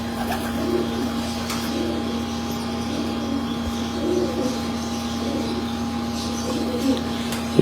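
Pigeons at a champion breeder's loft give a few soft, low coos over a steady mechanical hum, with faint rustling in the background.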